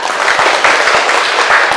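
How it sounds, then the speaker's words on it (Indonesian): Loud, close clapping from a classroom of students, a quick and dense burst lasting under two seconds. "Tepuk tangan buat Amelisa."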